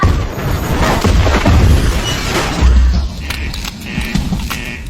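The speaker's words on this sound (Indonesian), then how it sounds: "Sesaat kemudian bom itu pun diledakkan membuat seisi bank berguncang hebat." A bomb explodes inside a bank: heavy booming and crashing noises roll through the space, with low thuds and rattling debris, followed by quieter clattering.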